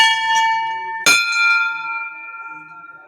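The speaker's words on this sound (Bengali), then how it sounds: "একটু বেল বাজিয়ে দিচ্ছি" A hand bell rings during Hindu worship at a Shiva shrine, with a soft first ring followed by one sharp, bright strike whose metallic tone hangs and slowly fades. No voices.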